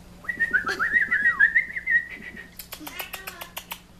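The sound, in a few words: pet bird chirping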